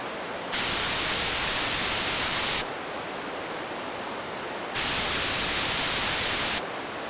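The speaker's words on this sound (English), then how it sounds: "This is called the bandpass filter." Steady white noise hisses throughout, alternating between full bright hiss and a duller band-limited version through a bandpass filter with lows and highs cut, switching back and forth twice.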